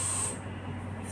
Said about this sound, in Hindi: स्प्रे